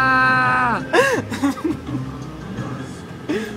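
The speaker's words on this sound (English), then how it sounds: "this is the loudest I can yell" A person yells as loudly as possible, starting with one long, high, strained cry that slides downward, then breaks into shorter, ragged vocal bursts and a final loud outburst.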